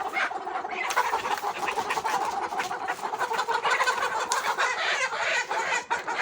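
Roughly twelve hundred fifty chickens cluck and squawk on a caged poultry farm, a dense, continuous, close chorus of overlapping bird calls that carries on throughout.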